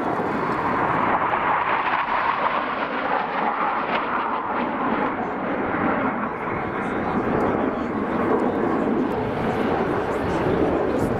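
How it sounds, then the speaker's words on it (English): A T-6 Texan propeller aircraft flies a display at the RAF Cosford airshow, its loud, steady engine drone filling the air continuously, with a voice talking over it. "to see the Texan in a flying display"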